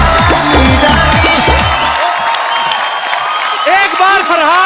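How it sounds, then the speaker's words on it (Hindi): A studio audience at The Kapil Sharma Show applauds and cheers loudly over a musical sting at the start, then keeps clapping with scattered whoops and shouts, close and sustained. "एक बार फरहान और अर्जुन के लिए जोरदार तालियां"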